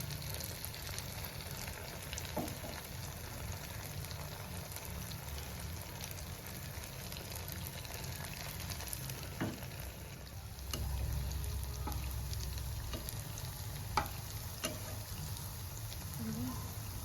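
Kalo jam sweets, a dark gulab jamun, fry in hot oil with a steady, faint bubbling sizzle and occasional small pops, continuous and close throughout.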